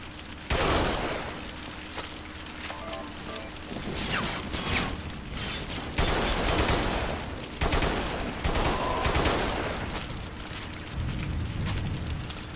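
Bursts of automatic gunfire in the shooter game Bodycount, played on the Fishing Village map, come as several loud rapid volleys separated by short gaps, with mechanical clatter between them.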